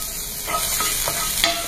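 Finely chopped small onions (shallots) frying in a pan for a rice lunch-box recipe, a steady close sizzle with a few stirring scrapes of a utensil, no talk.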